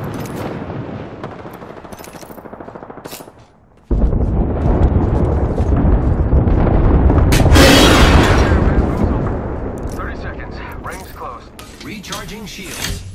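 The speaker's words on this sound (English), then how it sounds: "Watch an airstrike." Airstrike explosions in the Apex Legends video game: after a quieter stretch of mechanical game noise, a heavy sustained barrage of booms and rumbling blasts erupts and rolls on loudly, with a sharp burst near the middle.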